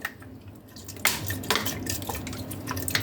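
Vinegar poured into a pot of Ilocano-style beef paksiw made with cow's feet splashes and drips against the metal, with light clinks of utensils, close and fairly quiet.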